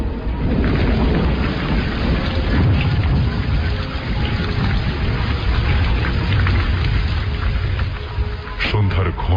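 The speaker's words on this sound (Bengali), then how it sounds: "শুধু যে বৃষ্টি তা নয়, সেই সঙ্গে কড়কড় করে বাজ পড়ার শব্দ।" Heavy rain and rumbling, crackling thunder in a dark evening storm on an empty road, a dense continuous roar with booming swells, blended under a narrator's voice in a spooky Bengali audio drama.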